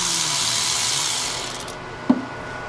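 A ratchet works loose the turbo V-band nut on a Nissan 300ZX, a short burst of rapid clicking that fades out, followed by a single sharp metallic knock, close up with no talking.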